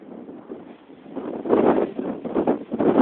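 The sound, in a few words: strong wind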